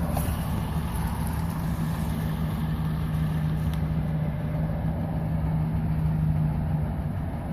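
A car engine idling rough with a knock and ticking rumbles low and continuous, with a faint uneven hum running throughout and no voices.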